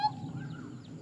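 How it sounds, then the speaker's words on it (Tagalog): A chicken on a farm in Lucban, Quezon gives a short clucking call, fairly close, with faint rustling behind it and no voices. "May manok. Rinig ko yung manok."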